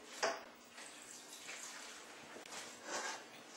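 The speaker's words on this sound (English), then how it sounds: "turn on the water" Water runs steadily from a tap into a 55-gallon aquarium sump being leak tested, a soft continuous splashing rush with a few louder surges, fairly close and alone.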